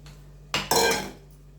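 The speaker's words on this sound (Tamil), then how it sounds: "லைட்டாக நெய் ஊற்றிட்டு இதை போட்டு முதல்ல வறுத்துக்கலாம்." Soaked broken wheat hits hot ghee in a pan, a sudden close clatter followed by a bright, hissing sizzle that fades away within a second.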